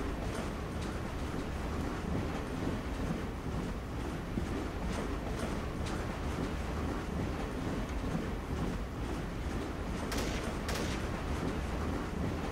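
A train rolls along continuously in the Trouble in Terrorist Town video game, a dense, unbroken rumbling clatter at steady loudness, with scattered sharp knocks and bangs over it.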